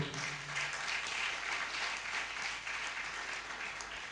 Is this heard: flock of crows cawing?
no